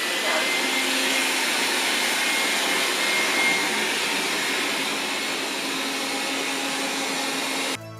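A Dreame D9 robot vacuum cleaner hums loudly and steadily with a broad whooshing roar, then cuts off abruptly near the end.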